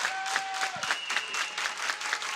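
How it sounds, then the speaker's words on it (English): A full crowd at a high school volleyball match between Hopkins and St. Louis Park claps in steady rhythmic bursts, a dense applause that continues throughout. "Full crowd here on hand, and they are cheering on their Orioles"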